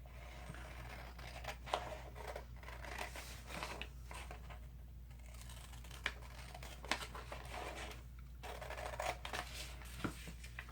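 Scissors cut through scrapbook paper while a handmade seed-packet journal is assembled. Quiet snips and crisp paper clicks come in an irregular run over a steady low room hum, with no talking.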